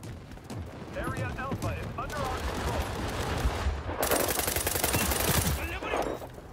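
Rapid automatic gunfire from a video game shooter, rattling in dense bursts that swell loudest toward the end, with an excited voice talking over the shots.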